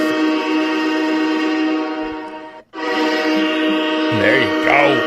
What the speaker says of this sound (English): Mark is pumped up, and we got to hit that train horn from Mark.